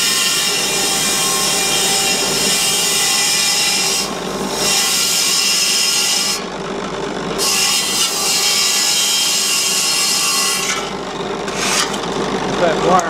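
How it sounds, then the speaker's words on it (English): A wire brush spinning in a drill press scrubs a metal bracket from a lawn mower, giving a steady, loud abrasive rasp that runs throughout with brief dips where the part is pulled away. "That wire brush in my drill press."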